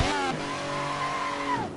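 A race car engine in the racing sim Assetto Corsa, a high-revving million-dollar car, holds a loud, steady drone with rising pitch sweeps, running continuously close up with no talk.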